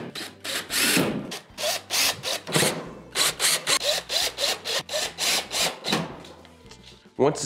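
Phillips screws being driven into the top service panel of a Whirlpool stove, a string of short rhythmic bursts from a screwdriver working against sheet metal, close and fairly loud with a sharp clack near the end.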